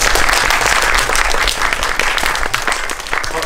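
Audience applause at a special guest screening of a Korean film, dense and steady clapping from a packed room, loud and close, tapering slightly toward the end with no talk over it.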